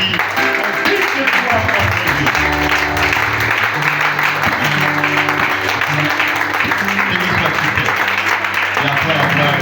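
A church congregation applauds and cheers in sustained, dense clapping mixed with shouts and acclamations, while a voice speaks over it and music plays underneath.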